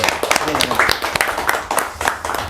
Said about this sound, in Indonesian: Tepuk tanganmu.